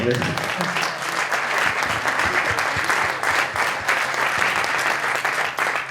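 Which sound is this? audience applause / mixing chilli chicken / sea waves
audience applause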